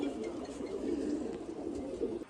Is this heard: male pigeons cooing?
yes